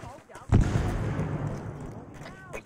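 A frag grenade blows up in the Arma 3 video game set in the Vietnam War era: a single heavy boom with a rolling tail, and a voice is heard just before it.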